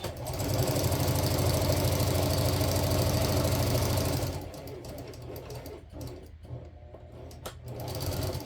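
A sewing machine stitches and back stitches the corners of a quilted rice bag heating pad, running loud and steady for about four seconds, then giving way to quieter mechanical clicks and short bursts.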